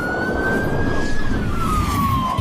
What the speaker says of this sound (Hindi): पुलिस की गाड़ी आकर रुकती है